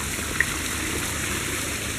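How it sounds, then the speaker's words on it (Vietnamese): Steady, broadband rush of a waterfall on a Malaysian island, constant and fairly loud throughout with no pauses and no voices. "Ồ, cả thác nước nè."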